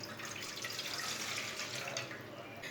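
Water being poured from a steel glass into a cooking pan, a continuous splashing, gurgling stream heard close and steady for the whole span.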